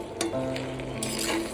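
Tangra fish curry with brinjal and potato being stirred in a hot pan, a steady close sizzle with soft scraping strokes running throughout, no voices.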